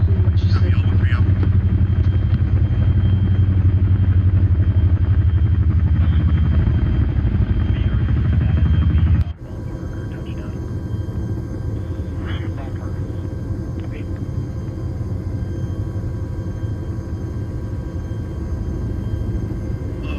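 An Apache escort helicopter in the Arma 3 military game drones with a loud, steady rotor rumble, abruptly dropping to a quieter, more distant whir partway through; speech may overlap the engine noise.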